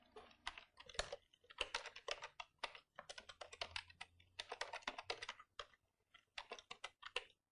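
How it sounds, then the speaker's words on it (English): A Windows 8 product key typed on a computer keyboard, close and clear, with rapid bursts of key presses separated by brief pauses, steady rhythm throughout. "So I'll type my product key in now."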